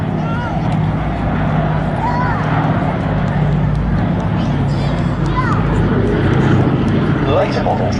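A Boeing B-17G propeller bomber flies over an air show at Duxford, a steady distant droning engine roar running beneath continuous commentary from someone talking throughout.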